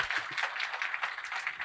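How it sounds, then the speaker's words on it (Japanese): Audience at a DroidKaigi 2019 tech conference talk clapping together in a steady, dense wash of applause, fairly faint and continuous throughout with no voices over it. "では盛大な拍手で、始めたいと思います"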